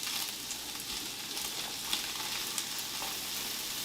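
Onion and pork sizzle in a hot pan with a dense, continuous hiss and a few light crackles, close up with no talking.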